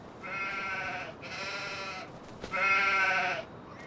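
Sheep in the Farming Simulator 25 video game bleat three times in succession, each call a drawn-out, wavering baa, close and clear over a quiet background.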